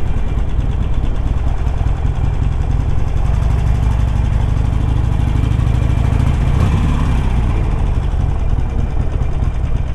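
A Harley-Davidson Sportster 883 Iron motorcycle engine with stock exhaust pipes runs steadily, a dense low rumble that holds at a constant loud level for the whole span with no voices.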